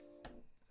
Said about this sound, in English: And that's my phone to tell me to put the bin out.